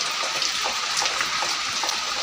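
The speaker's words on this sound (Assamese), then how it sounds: "এনেকৈ বৰষুণ দি আছে" Steady rain patters down in a dense, continuous hiss, with scattered individual drops tapping through it; no voices.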